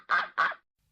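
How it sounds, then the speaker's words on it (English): A duck by a muddy jungle road gives two quick, nasal quacks in succession, close and fairly loud, followed by silence. "duck"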